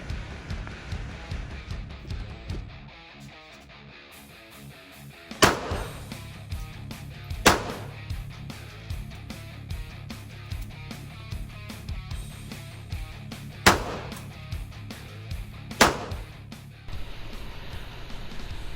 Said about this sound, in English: I really do like this pistol, and it fires quite well